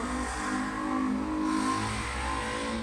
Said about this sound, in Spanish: Siento que hay un poquito de ruido de la calle.